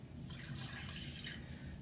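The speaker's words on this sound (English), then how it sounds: "And into that, I'm going to add 100 mils of cider vinegar" Cider vinegar pours from a container onto sugar in a kitchen, giving a continuous soft splashing trickle for over a second with no talking.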